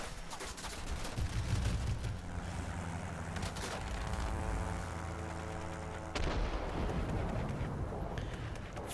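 Guns on the NC 1070 plane fire in World of Warplanes, rapid bursts rattling over a steady droning engine roar, with a sharper burst partway through.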